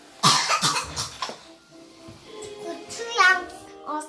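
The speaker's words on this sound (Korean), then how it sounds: "기침 콜록콜록 하는데 팔아도 돼요?" A child coughs in a quick cluster of sharp, close bursts at a vegetable and condiment stall, then talks briefly amid quieter room sounds.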